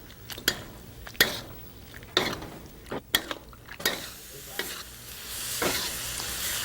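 Green beans cooking down in a yogurt and poppy seed sauce, with gentle sizzling under repeated scraping and stirring strokes of a utensil against the pan, plus occasional clinks, close and moderately loud, no talking.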